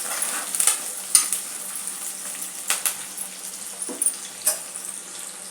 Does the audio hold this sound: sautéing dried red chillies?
yes